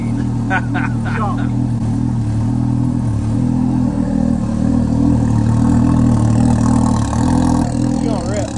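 A side-by-side UTV engine running steadily nearby with a low, constant mechanical drone, fitted with new aftermarket parts and an E85 tune, with a few brief sharp clicks early on.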